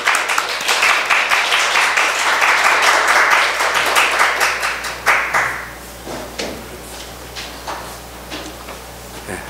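A church congregation claps together in a dense, sustained burst of welcoming applause during a Sunday service that gradually thins out into scattered final claps.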